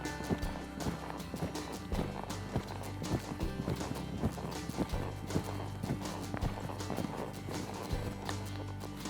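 Horse loping slowly around an arena at a non-pro reined cow horse event; rhythmic three-beat hoofbeats thud steadily at moderate distance, with a faint background murmur.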